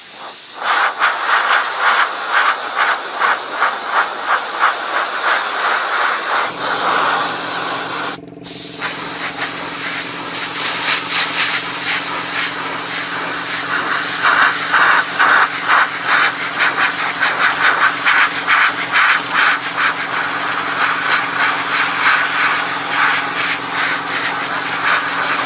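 Airbrush spray hisses steadily and close in thin passes over a Takom 1/35 scale Chieftain Mk10 tank model, with one brief break and a faint low hum underneath.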